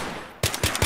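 Rapid gunfire in the video game Atlas Uprising: three sharp, loud shots in quick succession after a brief quieter lead-in, close and punchy.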